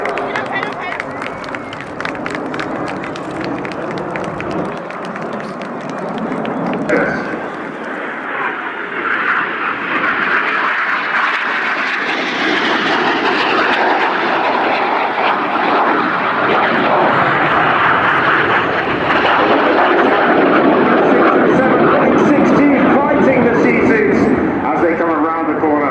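A display team jet, Red 1, flies a vertical break manoeuvre at the Royal International Air Tattoo, Fairford, with a sustained broad roar building louder over the pass while a commentator talks and a crowd is faintly present.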